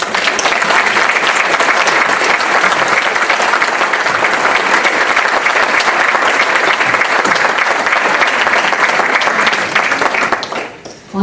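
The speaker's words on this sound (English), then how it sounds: "I also would like to invite the audience to join me on giving the candidates a round of applause." An audience at a candidates' night forum in a Santa Clara hall gives election candidates a round of applause: dense, loud, steady clapping that fills the room for about ten seconds before tapering off at the end.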